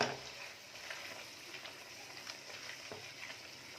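Masala paste with green chillies frying in oil for a Kashmiri chicken curry, a steady close crackling sizzle with faint stirring scrapes throughout and no voices.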